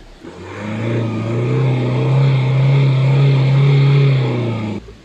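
An Opel Zafira family car's engine runs close by with a steady, rising motor hum that swells slightly and holds for several seconds before cutting off, with no voices.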